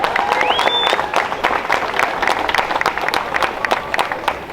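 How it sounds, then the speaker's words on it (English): A crowd at a Miami hypercar show claps loudly and raggedly, with a brief rising whistle-like tone early on over the applause. "Let's give everybody a big round of applause."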